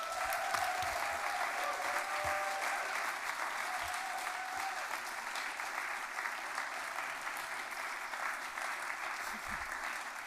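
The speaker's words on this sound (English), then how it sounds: "Please keep your applause going for Lars Horn." An audience at a literary fellowship reading applauds Lars Horn, a steady wash of clapping that runs unbroken for ten seconds, with a voice over it near the start.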